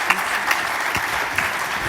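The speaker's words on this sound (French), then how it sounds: "et d'abord les applaudir, les remercier" Brief burst of audience applause at the close of a French round-table on farmers' experience of digital technology, steady dense clapping throughout with no voices.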